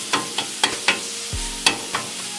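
Philly cheese steak filling for stuffed peppers sizzles on a Blackstone griddle, with a steady hiss broken by about seven sharp spatula scrapes and stirs at an uneven pace, close and fairly loud with no talking.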